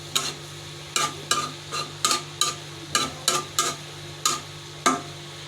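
A spoon stirs a curry of ash gourd, egg and quartered green chillies in a pot. About a dozen short scraping strokes come in an uneven rhythm, close and fairly loud over a low steady hum, with no talking.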